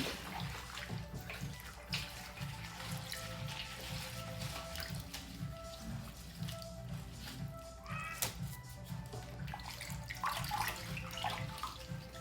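Spider flower greens washed and squeezed by hand in water, with gentle splashing and dripping going on continuously under a low steady hum.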